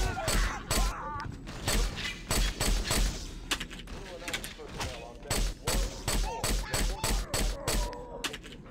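Pistol gunfire in the video game Halo CMT SPv2: loud, close shots fired in steady repeated bursts throughout, with someone talking over the firing.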